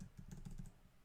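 Typing on a computer keyboard, a quick run of about six close keystrokes in a steady rhythm, then a brief quiet tail, with no talking.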